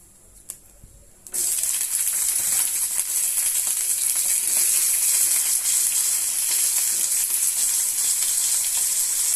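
Eggplant hits hot oil in a pan and bursts into a loud, steady sizzle that keeps crackling without a break, after a brief quiet moment with a small clink.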